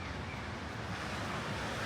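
Steady outdoor wind in Yamagata city on a cold day, a continuous broadband rush buffeting the microphone with no breaks and no voices.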